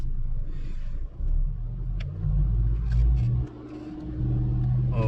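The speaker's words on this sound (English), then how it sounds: "We are now in reverse gear, as you can see. Okay, so let's accelerate." A car with a P0717 transmission fault revving in reverse gear, its engine rising and falling in a low rumble with a couple of accelerating surges and brief dips, heard close with no talk.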